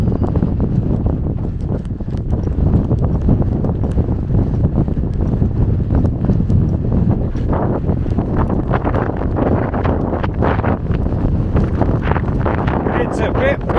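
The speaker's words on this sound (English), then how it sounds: "It's a bit windy." Steady, heavy wind during an outdoor race roaring and buffeting the microphone throughout, loud and continuous, with a voice speaking underneath.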